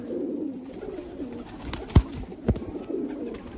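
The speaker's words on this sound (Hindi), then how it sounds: "ये बेसिकली टैडी कबूतर है ओरिजिनल" A teddy pigeon coos in low, soft throaty rolls close by, broken by a couple of sharp clicks or knocks, over faint background hum.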